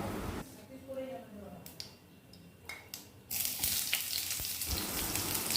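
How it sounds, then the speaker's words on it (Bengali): Whole spices, including cloves, cumin, cardamom and cinnamon, fry in hot oil for chicken do pyaza, with soft crackling under a voice and then a louder, steady sizzle. "ফোড়নগুলোকে এবার ভালো মতো করে ভেজে নেব"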